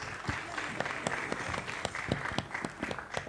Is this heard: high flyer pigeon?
no